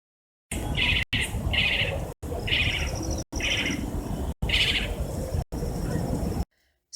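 A spotted owlet calls repeatedly, each burst a short run of shrill chirring notes, heard in several choppy segments separated by abrupt silences over a low background rumble.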